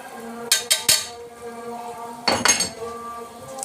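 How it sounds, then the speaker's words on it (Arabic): Pots and utensils clink and scrape in a pan as a tomato pasta sauce seasoned with sugar, black pepper, chili, seven-spice and salt is stirred, with a few sharp metallic knocks at the start and a second burst of clattering stirring later. "اقلبها بقى كويس لحد ايه ما تتسبك معايا"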